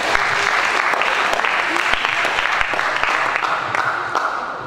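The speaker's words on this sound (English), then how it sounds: "Let us first give applause for him" Audience applause at a guest lecture, a steady dense wash of clapping from a seated crowd that holds evenly for several seconds.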